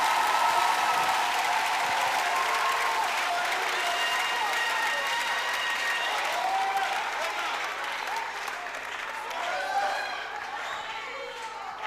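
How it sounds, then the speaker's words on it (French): A church congregation applauds steadily at a worship service during a French-language sermon, with dense, sustained clapping and crowd noise filling the whole stretch and easing slightly toward the end. "Acclamez le Seigneur Jésus."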